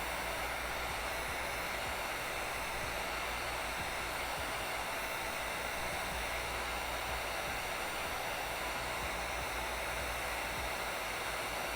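A hair dryer blows a steady, loud, unbroken whoosh while drying a tattoo stencil, running alone with no talk for the whole stretch.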